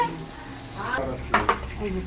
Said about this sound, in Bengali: ওখানে সবজি আলু ভাজা হচ্ছে।